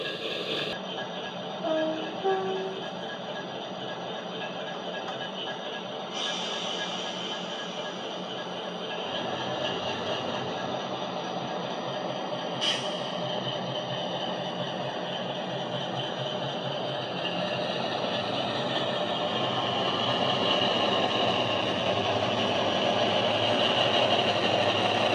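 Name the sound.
model diesel locomotive engine sound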